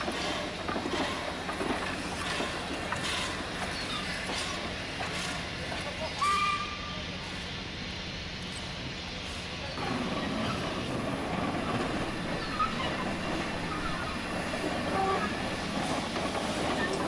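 Terrier class steam locomotive 2636, formerly named Fenchurch, works on shunting duty in a 1946 railway yard, giving a continuous rumbling chuff and clank with a short, thin whistle partway through.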